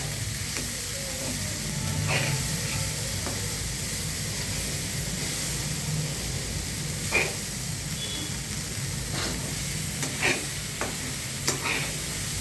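Cauliflower and tomato curry frying in a pan, a continuous hissing sizzle close up with occasional scrapes and taps of a spoon as it is stirred.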